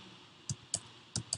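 A few soft key clicks on a computer keyboard as a name is typed, four quick separate taps in an otherwise quiet room, faint and close.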